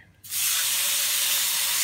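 Seasoned rump steak hits a hot frying pan with a sudden loud sizzle that flares up after a brief quiet start and holds as a steady, close hiss.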